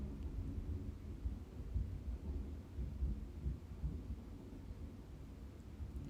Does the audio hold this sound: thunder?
yes